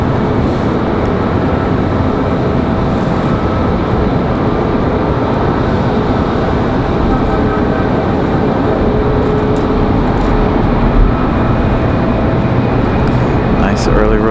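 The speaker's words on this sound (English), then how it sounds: "the Republic Airways to Pittsburgh is going to go for it" A Republic Airways jet bound for Pittsburgh takes off at night from Raleigh-Durham International, a steady broadband roar holding for the whole stretch while someone comments over it.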